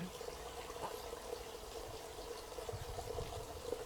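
A small stream behind the listener flows steadily, a soft continuous trickle and babble of water heard at moderate distance with faint low rumble, no voices.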